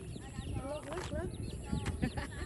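A mother hen with her seven chicks at a home with a new patio cover, her soft clucks and the chicks' high peeping going on steadily at close range, with a person talking over them.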